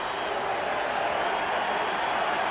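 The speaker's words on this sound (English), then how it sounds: "The crowd wants Hollins to come back out of the dugout." Crowd at a baseball stadium during Game 6 of the 1993 NLCS between the Braves and Phillies cheers and applauds in a dense, sustained roar that holds steady throughout.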